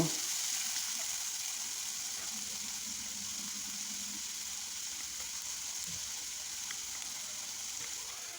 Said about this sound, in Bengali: এখন পেঁয়াজটাকে আমি বেজে নিব